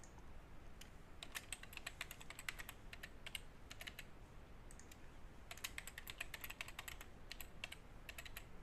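Fast, light keystrokes on a computer keyboard as a password is typed, in quick bursts with short pauses, close and quiet with no talking.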